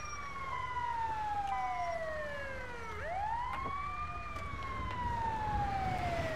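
An ambulance siren in GTA 5 during a snowy robbery mission, a wailing tone sweeping down then back up, steady and moderately loud over vehicle engine rumble.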